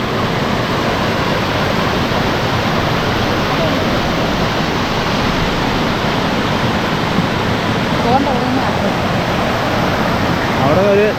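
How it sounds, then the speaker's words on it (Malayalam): A mountain stream leaps down rocks in a waterfall near rocky ground in Australia, giving a loud, steady rushing roar that fills the whole stretch without a break, with faint bits of voice underneath. "അവിടെ ഒരു നല്ല അരുവി ഇങ്ങനെ ചാടി വരുന്നുണ്ട്,"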